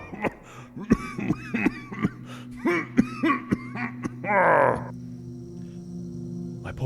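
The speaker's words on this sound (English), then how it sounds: "How long have you had that cough?" A man coughs in a harsh, repeated fit of short bursts with throat clearing, close and fairly loud, against a faint background hum with no talk.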